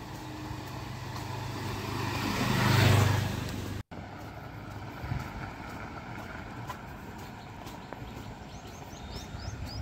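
On a quiet road beside a railway line in Kolkata, a four-wheeled vehicle approaches and passes close by, its rumble swelling to a peak before the sound cuts off. Faint street ambience follows.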